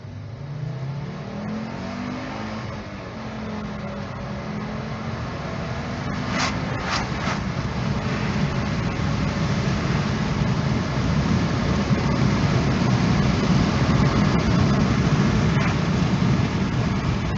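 A Fiat Stilo Abarth Selespeed with a 170 hp engine drives along, its engine note rising through revs early on, then a sustained loud drone of engine and road noise with a few brief clicks, heard from inside.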